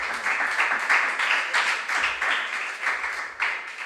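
An audience claps for junior high school contestants at a regional science and maths quiz, a moderate patter of hands that rises and dips over a few seconds without talk.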